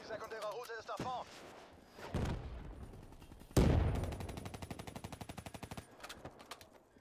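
Gunfire in Call of Duty Black Ops 3: a single heavy shot, then a loud sustained burst of rapid automatic fire tapering off, with voices talking at the start.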